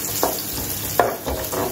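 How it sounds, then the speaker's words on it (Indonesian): Shallots and garlic sizzling in a pan while being stir-fried, a constant frying hiss with a few scraping stirs of a utensil, close and clear with no speech. "kalau bawangnya sudah nyereces seperti ini"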